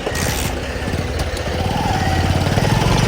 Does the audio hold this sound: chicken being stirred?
no